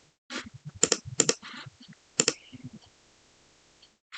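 Computer clicking at a desk, a handful of crisp close clicks in quick succession followed by a couple of faint taps, with no talking.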